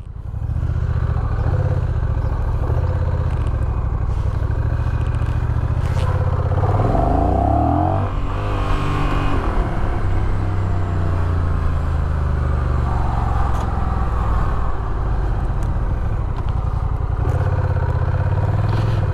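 Honda Rebel 1100 motorcycle riding on a road in Houston, a continuous loud engine drone and wind rush, rising in pitch midway as it accelerates through gears.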